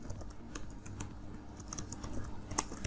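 Java code is typed on a computer keyboard, quick irregular key clicks close by and fairly quiet, with no voices over them.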